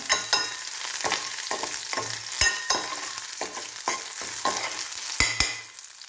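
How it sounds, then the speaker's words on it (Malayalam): Chopped ginger fries in a jackfruit seed curry, with a steady close sizzle broken by repeated sharp scrapes and taps of a spoon stirring in the pan, and no voices. "ഇനി നമുക്ക് പൊടിയായിട്ട് അരിഞ്ഞ ഇഞ്ചി ഇട്ട് കൊടുക്കാം"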